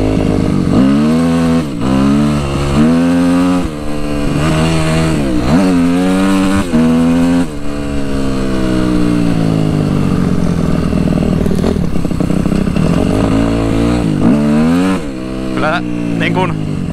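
A Suzuki RM-Z 250 motocross bike ridden hard, its engine loud and close, revving up and down in repeated rising and falling sweeps through gear changes, with a steadier drone in the middle and someone talking at points.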